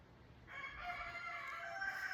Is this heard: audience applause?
no